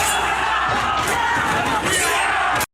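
Several voices mimic a kung fu fight with loud, overlapping shouts, yells and battle cries throughout, ending abruptly.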